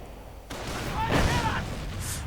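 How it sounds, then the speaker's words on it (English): Booby trap explosion with bursts of gunfire in a WWII strategy video game, a sudden boom followed by crackling shots over a short, dense battle mix, with commentary voices underneath. "And another booby trap goes off."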